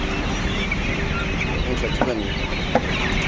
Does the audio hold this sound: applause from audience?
no